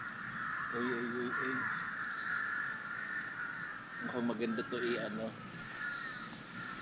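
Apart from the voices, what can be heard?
crows cawing in Lumpini Park, Bangkok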